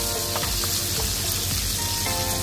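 A flipped steak sizzles and fries steadily in a hot pan, a dense continuous crackle with small pops, close and alone with no talking.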